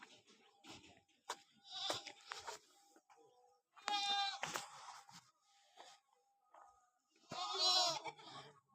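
Goats bleat at a livestock market where a trader has bought a lot of goats, several loud, wavering calls standing out among quieter bleats and faint background voices.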